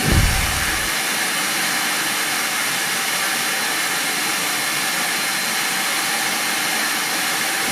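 A steady, loud whooshing hiss of a cordless vacuum cleaner motor in standard mode runs continuously and unchanging from start to finish.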